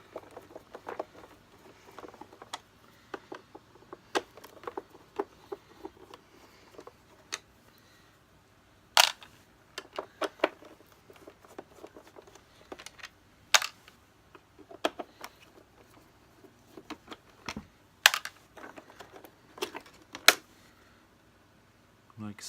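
Screws being removed from the cover plate of a Hoover Turbopower Junior U1426 upright vacuum, with sparse small clicks and ticks of a screwdriver and plastic parts spaced irregularly, quiet and close, with someone talking at times.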